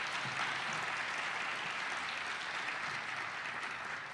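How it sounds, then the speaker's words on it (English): A symposium audience in a hall breaks into steady, sustained applause, a dense wash of many hands clapping at even loudness throughout, without any talking. "Let's give them a round of applause"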